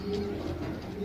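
A pigeon coos nearby in a single short, low, soft call over faint background noise.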